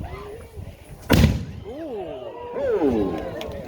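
Cannon blast at a Renaissance fair cannon show, a single loud sharp boom that decays quickly, followed by crowd cheers and exclamations nearby.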